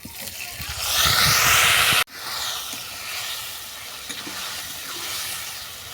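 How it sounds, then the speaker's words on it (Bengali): Chicken goes into a pan of frying whole spices: cardamom, cloves, dried red chilli, bay leaf and panch phoron. A loud, bright sizzle swells, drops abruptly, then carries on as a quieter, steady hiss. "এবার চিকেনটাকে আমি তুলে দেবো।"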